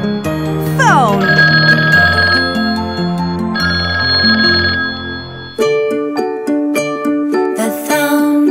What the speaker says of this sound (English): The phone is ringing, ring, ring, ring.